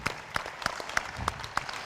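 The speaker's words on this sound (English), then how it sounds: "Let's give Sean a round of applause." A small audience at a business challenge event claps in scattered, separate hits, fairly quiet and sparse for a couple of seconds.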